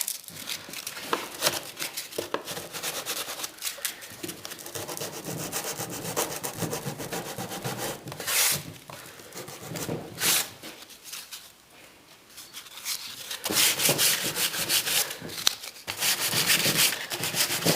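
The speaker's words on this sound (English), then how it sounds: "Might take a little bit of aggressive rubbing on some of these." Aggressive hand rubbing back a painted wooden Welsh dresser to bare timber for a shabby chic distressed finish, a continuous scratchy abrasive scrubbing in close bursts with brief pauses.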